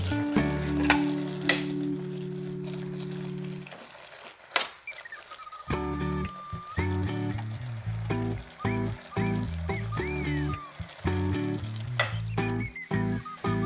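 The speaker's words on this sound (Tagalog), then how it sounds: "patayin ko na ang stove at hayaan ko na muna ang sariling init ang tatapos sa pagluluto" Banana blossoms cook in a pan with the stove turned off, left in the residual heat. A gentle sizzle and stirring sounds sit beneath prominent background music.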